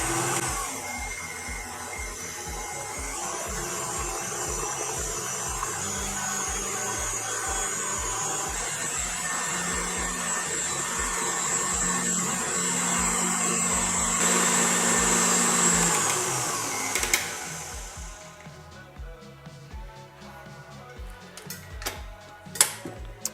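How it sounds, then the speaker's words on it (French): An electric hand mixer whips sugar for a lemon cake, a continuous loud whirring drone that runs steadily for most of the time before switching off, followed by faint clinks and handling sounds. "je vais démarrer mon batteur et puis on va laisser mousser"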